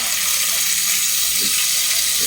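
Green chillies frying in oil with cooking greens, a steady broadband sizzle and watery bubbling that runs continuously at close range with no talk over it.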